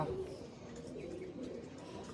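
Soft, low cooing of white pigeons close by, a gentle throaty murmur running through the short stretch with faint background hiss.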